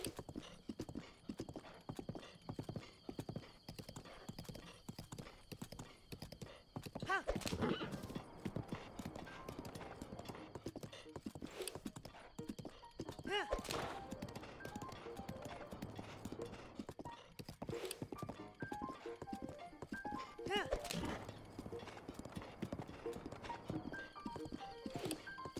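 A horse named Max gallops in Zelda: Breath of the Wild, a steady rapid clip-clop of hooves running throughout, with a few neighs and whinnies breaking in, moderately quiet with faint game ambience and occasional soft speech.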